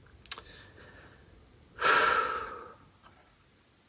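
A single deep, audible breath drawn in and released during a guided meditation, close and clear against a quiet room, with a small click just before it.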